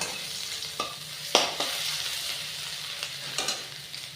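Crushed ginger sizzles in hot oil for tempering, a steady close frying hiss broken by a few sharp stirring clicks and scrapes, with no voices.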